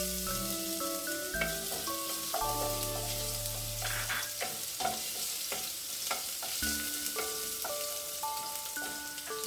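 Garlic sizzles softly in hot cooking oil while a utensil stirs it in the pan, a steady faint crackle under background music.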